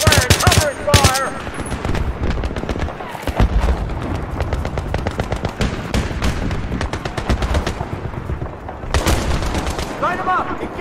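Battlefield 3 gameplay, with loud, dense bursts of automatic gunfire and sharp single shots going on continuously as soldiers shout over the shooting.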